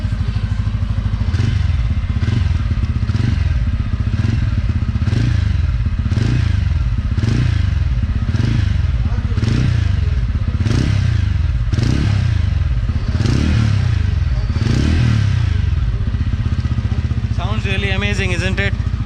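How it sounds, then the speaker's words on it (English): TVS Ronin mid-variant motorcycle with an oil and air-cooled engine revving up again and again in loud, rhythmic bursts close by, with a brief burst of talk near the end. "Let's rev it a bit and hear how it sounds."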